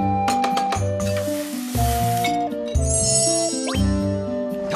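A cooking sizzle effect from the video game Dissidia Final Fantasy Opera Omnia gives a short hissing burst among chiming game tones and music.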